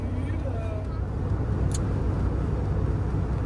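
A van being driven, heard from inside the cab as a steady low engine drone blended with continuous road rumble, constant in level throughout.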